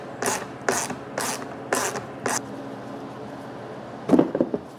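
Ratcheting clicks from a T25 Torx driver loosening three fasteners on a Mercedes engine cover, heard as five short bursts in steady rhythm, close and fairly loud, followed by a pause and a brief clatter near the end.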